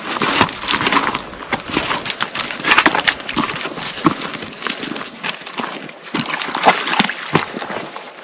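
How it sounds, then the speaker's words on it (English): Slow-flowing water splashing into a homestead pond, an irregular string of close, sharp splashes and trickles over a steady wet wash. "Slow flowing water, that's what you want."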